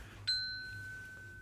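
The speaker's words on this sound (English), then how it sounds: "Hit that bell." A single bright notification bell ding strikes sharply and rings on with a clear, sustained tone that fades slowly over a quiet background with no talking.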